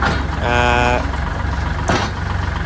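A 2022 Kubota L4018SP tractor engine runs at a steady idle, a continuous low rumble close by, while someone talks over it.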